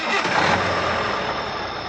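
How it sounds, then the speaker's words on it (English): A truck engine starting up, a loud, steady broadband rumble that holds evenly for about two seconds with no gaps. "Joe started the engine, and the journey began."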